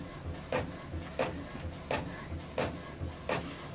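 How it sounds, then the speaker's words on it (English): Printer feeding out a document, with a regular mechanical swish-and-thump repeating about every 0.7 seconds over a low motor hum, close and moderately loud. "this document now is printing out."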